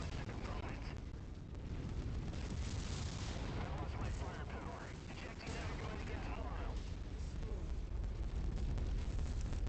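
Mech weapons fire in battle in the video game MechWarrior 5: Mercenaries, a dense, continuous barrage of heavy booms, blasts and rumbling explosions that stays loud from start to finish.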